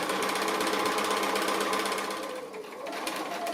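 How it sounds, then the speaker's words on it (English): A sewing machine stitches around the edge of a fabric pin cushion, a fast, steady mechanical chatter that runs continuously, up close and alone, easing slightly near the end. "So I'm going to go ahead and stitch all the way around there"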